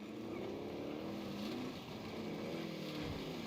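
A vehicle drives in the Call of Duty Warzone video game, a steady engine drone with rising and falling pitch that runs throughout at moderate level.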